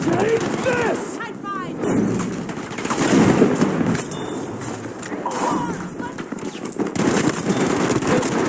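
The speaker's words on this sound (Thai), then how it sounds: "ยิงยิงยิง" Rapid automatic gunfire from the video game Battlefield V: a dense, continuous barrage of shots with bursts layered over one another, loud and busy throughout, with voices talking over the combat.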